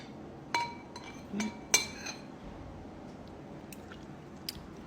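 Sardines stirred in a pot, a few sharp metallic clinks of a spoon against the pot spaced apart, followed by a quieter stretch with faint scraping.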